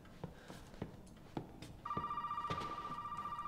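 A telephone starts ringing in Resident Evil 7, a steady electronic trill that continues over faint footsteps and room ambience.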